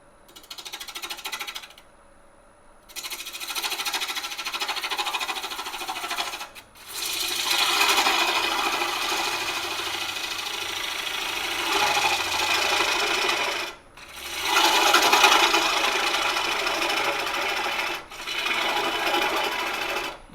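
A wood lathe turns a myrtle bowl while a tool scrapes its rim flat, giving a loud, raspy whirring cut that stops briefly several times between passes.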